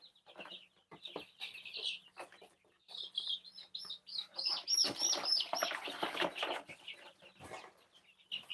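Barred Rock chickens cluck and chirp in quick repeated bursts, close and fairly loud, with soft rustling between calls and no talking.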